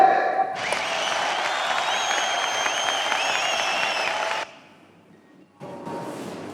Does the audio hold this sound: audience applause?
yes